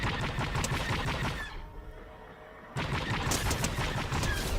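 Dense gunfire in a video game, a loud continuous stream of rapid shots that drops away briefly for about a second, then resumes just as hard.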